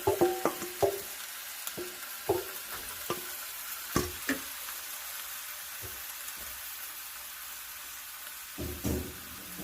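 Seasoned chicken pieces go into a hot pot for Trinidad-style curry chicken, giving a sizzle with clattering stirring knocks, louder at first and easing to a quieter hiss.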